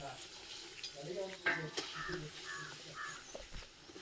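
Two kilograms of country chicken dropped into a hot pot over a wood-fired stove, giving a faint sizzle with stirring scrapes and clatter, while crows caw in the background and a voice speaks briefly.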